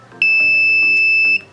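A homemade seven-segment LED display circuit sounds its electronic buzzer in one loud, steady high-pitched tone lasting about a second.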